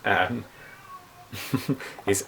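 A house cat meows loudly and close by once, then someone talks in the gaps and over the sound, with more short meows mixed in near the end.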